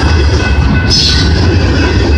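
Canadian Pacific freight train CP-134 rolls past on the Galt Subdivision in London, Ontario, giving a steady loud rumble with wheel noise and a brief higher squeal partway through, with no voices.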